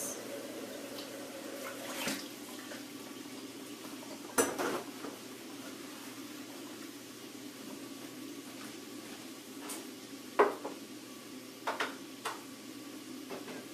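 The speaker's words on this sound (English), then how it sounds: "I'm going to rinse out this bowl really quick and throw it in here so you can see it" A bowl is rinsed under a running kitchen tap with a low, steady water hiss, broken by a few sharp clinks and knocks as it is handled and tipped into a pan.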